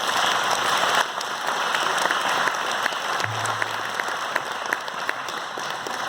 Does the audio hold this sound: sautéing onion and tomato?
no